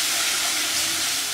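Egg curry masala frying in a pan while being stirred, a steady close sizzling hiss with no voices.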